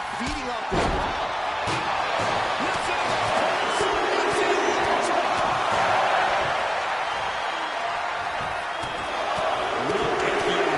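A roaring arena crowd fills a WWE 2K25 match, a loud, steady wash of cheering with a sharp slam near the start and a commentator's voice running over it.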